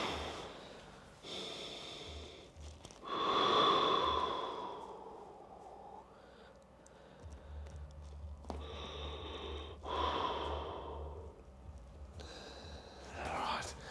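Deep, drawn-out breaths and sighs from a footballer lying still under a hands-on hamstring massage, with several slow exhales spread out over a quiet room.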